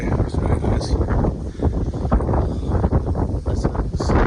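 Gusty wind buffets the microphone on a 21st-floor building, a constant low rumble with a voice faintly mixed in.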